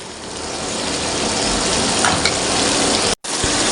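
Mutton karahi with yogurt sizzles and fries steadily in a wok, a loud, continuous crackling hiss that holds without pause until a brief dropout near the end.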